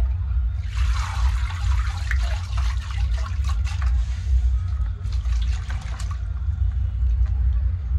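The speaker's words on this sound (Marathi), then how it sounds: "पुदिना आणि कोथिंबीर आहे, धुवून घ्यायचंय चांगलं" Mint and coriander leaves are rinsed under running tap water in a home kitchen, a steady splashing rush over a low constant hum, fairly close and continuous.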